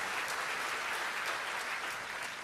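A church congregation at a Sunday service applauds, a soft, even patter of many hands clapping heard at a distance and low in level for a couple of seconds.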